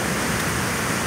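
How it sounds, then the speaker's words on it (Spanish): A waterfall pours down a mountainside beside a road after a landslide, giving a dense, steady rushing roar with no pauses. "esa bajada de agua, esa cascada"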